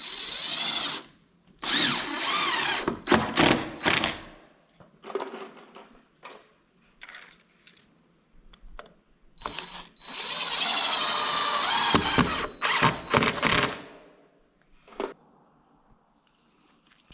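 A power drill drives screws into a wooden main beam being built, in repeated short whirring bursts separated by pauses, with a longer sustained run near the middle, close and loud.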